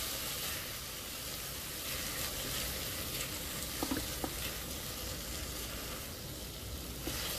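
A curry base with tomato juice is stirred in a frying pan for a Nepali-style fish curry, giving a soft continuous sizzle with faint scraping stirs, quiet and steady, with no talking.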